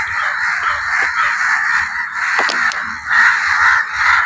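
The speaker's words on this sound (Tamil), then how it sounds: "எல்லா காக்காயும் கத்திக்கிட்டு கிடக்கு" Several crows caw loudly and repeatedly nearby, their harsh calls overlapping in a continuous noisy chorus.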